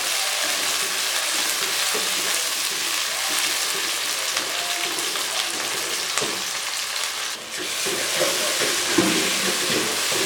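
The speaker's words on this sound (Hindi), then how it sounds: "तो अब हम इसमें टमाटर और हरी मिर्च शामिल कर देते हैं। अब हम इनको फ्राई करेंगे।" Tomatoes and green chillies fry with golden onions in a pan for chicken biryani, a constant close sizzle broken by occasional stirring scrapes and a brief dip midway, with no talking.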